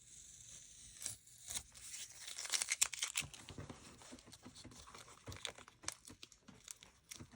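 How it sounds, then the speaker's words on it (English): Tape peeled off paper at a painting session, making crinkly tearing rips in bursts of varying loudness, close and without talk. "So take the tape off."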